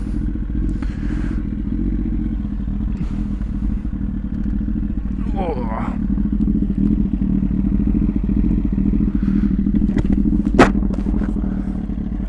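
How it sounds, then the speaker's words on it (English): A Kawasaki ZX9R motorcycle engine runs steadily under constant wind rumble, with a few faint clatters and thumps in the background. "Kawasaki ZX9R."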